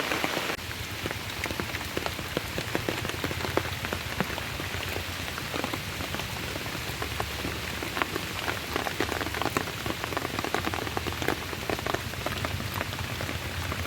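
Heavy rain pours steadily and loudly onto surfaces close by at a pond, a dense continuous patter with no voices.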